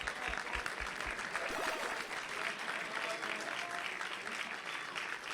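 An audience at the 2019 Classic Tetris World Championship main stage applauds a player, a steady wash of clapping that stays faint and distant for several seconds, with no talking over it.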